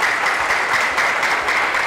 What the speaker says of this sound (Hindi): एक बार जोरदार तालियां इनके लिए होनी चाहिए.